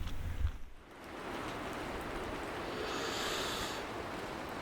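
Steady rain falls at a mountain camp spot near the French border, a dense, even hiss close around that fills the clip alone after a brief rustle at the start.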